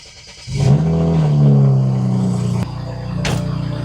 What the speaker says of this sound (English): All right, let's get this car started.